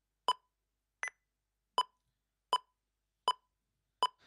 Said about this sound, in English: you can select what type of metronome sound you want.